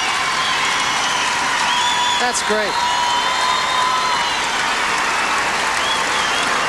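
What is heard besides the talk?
crowd applauding at gymnastics event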